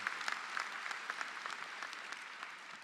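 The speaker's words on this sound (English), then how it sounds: "Round of applause for them." Applause from a large audience at a college commencement ceremony, a broad, steady patter of many hands with a few distinct sharper claps, heard at a distance and moderately faint.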